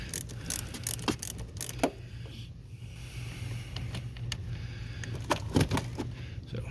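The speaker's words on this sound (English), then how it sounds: "disconnect your battery terminal. I always just do the ground because these are ground side switched on most of these, so get the wrench going the right way" A wrench loosens the ground terminal on a car battery, heard as quiet, close, irregular metallic clicks and ratcheting ticks scattered through a low background hum, no talk.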